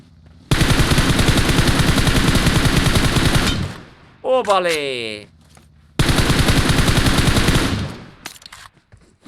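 Automatic gunfire in the mobile battle-royale game PUBG Mobile: two long, loud, close bursts of rapid shots separated by a short gap, with a brief spoken word between them.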